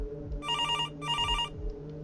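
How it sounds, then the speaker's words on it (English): A telephone bell rings in two bursts of bright, trilling electronic tone separated by a brief gap, fairly close over a low background hum. "The sound of that phone ringing had become sickening"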